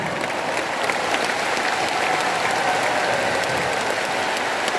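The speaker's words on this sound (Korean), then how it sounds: "여러분 2000 성도들은 다 박수 치는데" Some two thousand church members clap together at a Christian rally in Jangchung Arena in Seoul, a dense, loud, continuous wash of applause filling the hall without pause.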